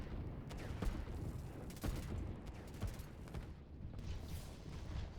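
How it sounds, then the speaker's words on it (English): Skirmish between teal artillery and red infantry and commandos in the mountains of the strategy game Line War, with scattered distant gunfire pops and low booms over a steady rumbling battle bed. "A little bit of skirmish in and amongst these mountains between the teal artillery and the red infantry and commandos."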